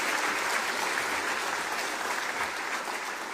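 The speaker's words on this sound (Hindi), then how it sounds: "बेटियों के लिए थोड़ा ताली हो जाए।" A large audience applauds at an event addressed by President Droupadi Murmu in Sikkim, steady and dense clapping that stays loud from start to finish with no pause.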